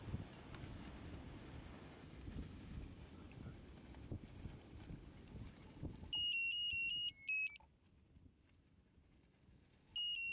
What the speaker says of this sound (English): This high tide alarm